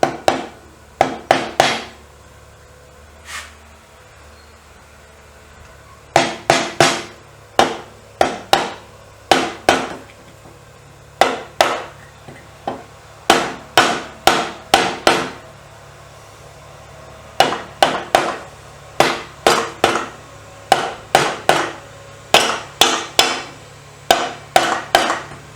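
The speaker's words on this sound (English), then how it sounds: "I've got my soft hammer to start." Soft hammer tapping a part onto a B44 engine, sharp close knocks in quick bursts of three to six strikes separated by pauses, repeated across the stretch.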